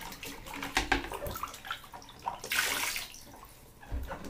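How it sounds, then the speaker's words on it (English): A baby splashing water in a bathtub, with close, irregular sloshes and slaps of water in short bursts that pause briefly between them. "Let me see a splash."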